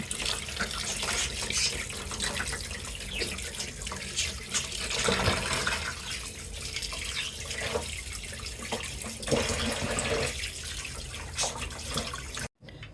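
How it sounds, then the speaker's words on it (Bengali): Tap water runs steadily over cut hilsa fish being washed in a sink, a continuous splashing rush with shifting gurgles and sloshes, close and unbroken until it stops abruptly near the end. "আর সুন্দর করে পরিষ্কার করে ধুয়ে নিবো"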